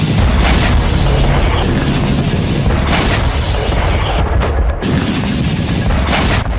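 Heavy Russian artillery strikes and explosions send dense, loud booms and rumbling blasts rolling one after another with no pause, like a continuous bombardment.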